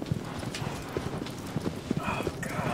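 Horse hooves clop steadily in the Shadow of the Colossus video game, an even, moderately loud trotting rhythm under a continuous background mix.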